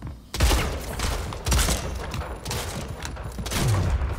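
Gunfire in Splitgate as repeated loud bursts of shots, with sharp onsets roughly every second close up, and no talking.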